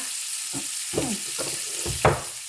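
Onions stir-fried in a pan next to frying pork tenderloin, a steady sizzle with several scraping stir strokes over about two and a half seconds, close and moderately loud.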